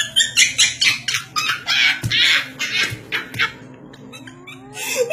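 A cat meowing in a series of short, rhythmic calls with brief pauses, fairly close and clear, mixed with other animal-like cries and some background noise.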